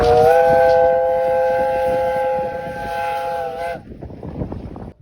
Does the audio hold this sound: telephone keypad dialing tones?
no